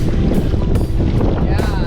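Strong wind on a beach buffets the microphone with loud, rumbling gusts, constant and close, with a faint voice underneath.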